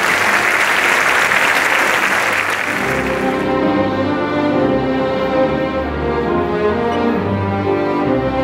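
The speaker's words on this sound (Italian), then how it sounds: "vorrei pregarvi di fare un applauso a questa fantastica orchestra." An audience gives an orchestra dense, steady applause for a few seconds. Sustained orchestral chords then rise and take over while the clapping fades underneath.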